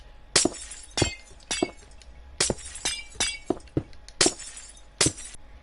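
Glass blocks shattering one after another in Minecraft as house windows are swapped for glass panes, a series of about nine sharp, bright breaks with tinkling tails at an uneven rhythm, close and loud, with no talking.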